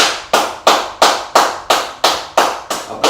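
A church congregation claps together during a worship service in a reverberant hall, sounding about nine sharp, evenly spaced claps in a steady rhythm, each with a short echoing tail.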